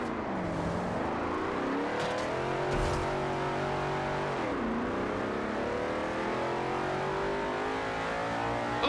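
A race car engine in Forza Horizon 2 revs hard at full throttle, the pitch climbing through gears with brief dips at shifts, loud and continuous with no talking.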